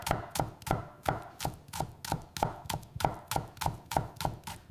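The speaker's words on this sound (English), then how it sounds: "The rhythmic sound of chopping fills the room." Knife chopping chilies and garlic on a cutting board, about a dozen evenly spaced sharp thuds in a steady rhythm, close and loud, with no voices.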